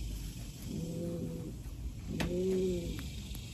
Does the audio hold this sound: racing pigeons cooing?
yes